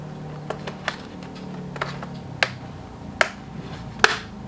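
Small plastic clicks from a laptop RAM module being released from its latch, a few sharp, close ticks spaced irregularly over a faint low hum.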